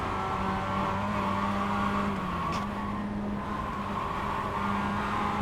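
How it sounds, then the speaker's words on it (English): A car engine drones steadily in an online racing video game, a sustained loud tone with a slight pitch dip partway through, consistent with a drift, and no one speaking. "It's like I'm drifting around here"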